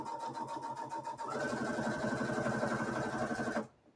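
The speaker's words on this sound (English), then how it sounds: "So all we're doing is stitching the waistline." A sewing machine stitches a skirt waistline with a steady rapid whir, its pitch climbing as it speeds up partway through, then stopping abruptly.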